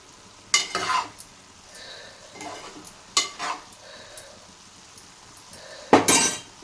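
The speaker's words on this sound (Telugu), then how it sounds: "కొత్తిమీర కొంచెం వేసి మళ్ళీ ఒక్కసారి కొంచెం కలిపి ఇలాగా" A spoon stirs dried prawn and okra curry with fresh coriander in a pan, giving a few sharp scraping and clinking strokes spaced a second or two apart over a quiet background.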